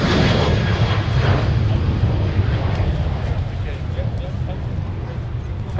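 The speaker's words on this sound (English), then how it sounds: "UPS brought the 747 from Louisville today again, and this time they taxied on Mike" A UPS Boeing 747 taxis on Taxiway Mike at Minneapolis–St. Paul airport, about 300 feet away, its engines producing a loud, continuous low roar and hiss that eases slightly toward the end.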